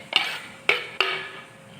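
Three crisp clinks of a spoon against a bowl while salt and chili powder are mixed into food, each tap ringing briefly, close and clear with no talk.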